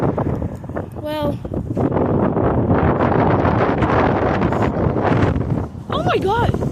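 Strong outdoor wind roars steadily and loudly across the microphone throughout, with brief whistling tones riding over the constant buffeting.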